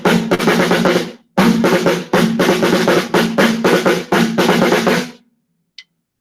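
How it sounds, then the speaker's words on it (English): Snare drum struck with drumsticks in quick repeated bursts, the bottom snares rattling with a bright buzzing wash on each hit, loud and close before stopping abruptly. "When I hit it with my drumsticks, the snares on the bottom are going to rattle and make a very unique sound like this."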